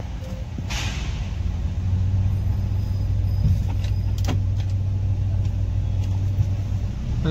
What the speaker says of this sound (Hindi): वापस से देख सकते हो मैं रेस दे रहा हूँ बट गाड़ी आगे नहीं जा रहा है